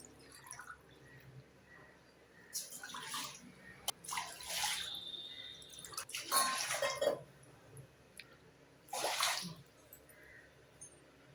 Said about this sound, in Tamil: இதில் இப்போ நாலு டம்ளர் தண்ணி சேர்த்துக்கிறேன்